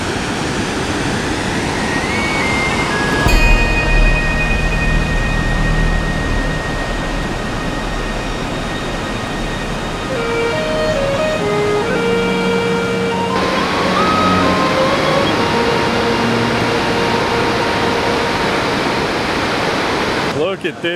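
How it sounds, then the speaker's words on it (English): A roaring waterfall with ice piled around it, just off a northern highway, thunders in a loud, constant, close rush that barely changes throughout. "Look at this incredible waterfall."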